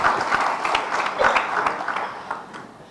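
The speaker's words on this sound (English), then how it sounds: "Hold your applause" An audience at a Sindh government signing ceremony breaks into steady, fairly dense applause, a continuous wash of overlapping claps that eases slightly toward the end.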